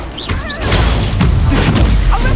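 A Confringo blast spell explodes in a Hogwarts Legacy match inside Fortnite, a heavy booming burst that swells after half a second and holds as a loud, dense roar with crackling debris to the end.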